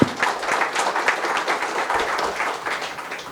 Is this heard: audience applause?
yes